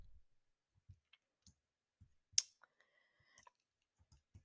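A few soft, sparse mouse clicks while navigating an interactive floor plan in virtual-tour software, spaced irregularly across a quiet background with one brighter click midway.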